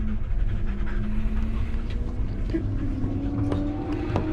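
Dogs panting in rapid, steady breaths, close by and continuous, with faint background noise throughout.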